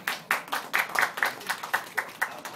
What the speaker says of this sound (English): You clap for that, Cody